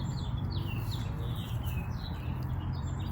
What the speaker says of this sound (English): Just hearing the birds out here today.